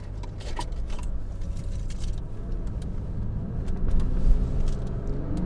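Lexus IS 350 rear-wheel-drive sedan from the 2014-2020 generation driving with its engine pulling steadily, a continuous low rumble that swells slightly toward the end, heard from inside the car with no talking.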